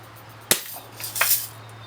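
A single sharp BB rifle shot, from either a Daisy Red Ryder or a Crosman Marlin Cowboy, cracks out close and clear, followed by a softer rattling impact sound a moment later.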